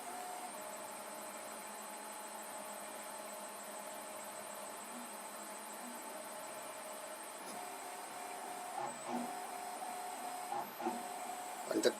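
A 3D printer hums and whirs steadily with a high motor whine, shaking the server cabinet it sits in, joined by a few louder clicks and shifts near the end; no voices.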